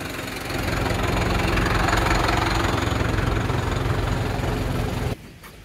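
Vehicle engine idling at Mgarr Harbour in Gozo while a boat trailer rig is lowered, a steady low rumble with slight vibration that holds for about five seconds and then cuts off, leaving quieter background.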